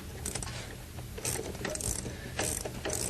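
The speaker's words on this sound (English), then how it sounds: "We can then take a 1/2 inch socket on a swivel" A hand ratchet with a 1/2 inch socket on a swivel clicks in quick, uneven bursts as it loosens a bolt on a squeegee assembly, close and fairly loud with metallic pawl rattles.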